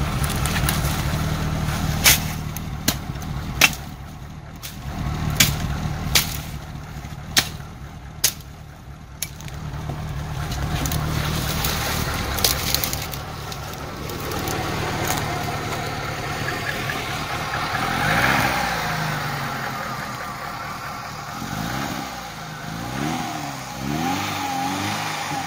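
A parked car's engine idles with sharp clicks and knocks over the rumble, then revs and pulls away onto a forest road, the drone rising and settling into steady driving at a moderate distance.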